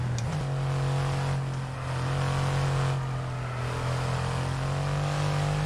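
Supercar engine in F1 22 droning steadily at high revs with a strong, sustained tone and a brief dip as it downshifts under braking, loud and alone.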